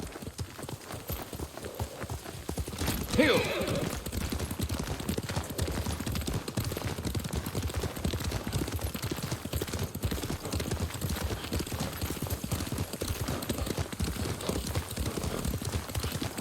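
Horse hooves galloping in Ghost of Tsushima, a steady rapid clip-clop rhythm running throughout at moderate volume, with a brief shouted voice near the start.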